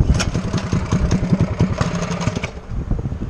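A motorcycle engine idles on a desert cliffside trail, a steady low rumbling putter with uneven pulses that eases slightly toward the end.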